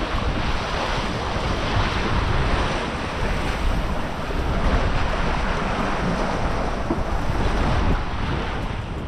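Wind and rushing water surround a Nacra 570 sailing catamaran racing on the Kiel Fjord, a loud continuous roar of spray and microphone buffeting with no voices.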